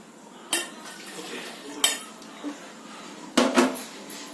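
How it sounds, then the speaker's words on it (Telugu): A metal cooking vessel being washed clatters in a quiet kitchen, with four or five sharp clanks and clinks spread over a few seconds, close and fairly soft. "ఒకసారి గిన్నె కడిగేసి ఆరబెడతాను"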